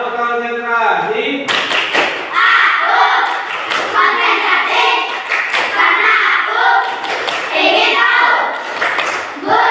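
Fifth-grade pupils clap together in a brisk patterned sequence, loud sharp claps in clustered bursts over a classroom full of chatter and children's voices.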